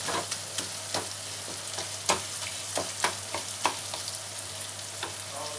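Tomatoes and onions, softened, fry in a pan and are pressed down, giving a steady sizzle with scattered sharp scrapes and taps from the spatula, with no talking.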